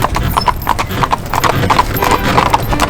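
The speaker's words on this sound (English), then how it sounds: "we've never been in a horse carriage before" Horse hooves clip-clop steadily on pavement while pulling a carriage through Salzburg. The beats are brisk and even, close and fairly loud, with light background noise and no talking.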